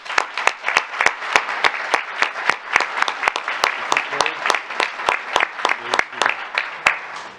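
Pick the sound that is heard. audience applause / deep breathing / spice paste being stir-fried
audience applause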